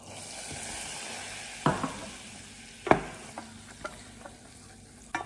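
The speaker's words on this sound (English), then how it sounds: "Then when your butter's completely melted, you add your flour." Flour stirred into melted butter over medium heat for a roux sizzles softly in a saucepan, broken by a few sharp spoon clinks and scrapes against the pan; no voices.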